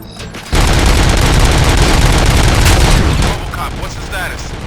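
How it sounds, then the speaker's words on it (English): Dense, sustained gunfire from the RoboCop: Rogue City video game, loud and continuous for about three seconds before easing off under lower background noise. "Gunshots? What's going on?"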